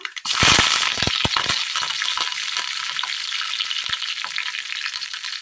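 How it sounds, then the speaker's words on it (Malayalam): Mustard seeds and curry leaves sizzling in hot oil for tempering, a loud burst of frying as they hit the pan, settling into steady crackling with occasional sharp pops. "കടുക് പൊട്ടി വരുമ്പോൾ കറിവേപ്പില ഇട്ട് കൊടുക്കാം."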